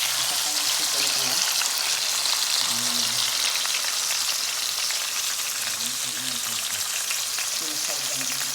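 Marinated boneless chicken thighs fry loudly in a pan, a strong, continuous close-up sizzle, with someone speaking briefly at intervals over it.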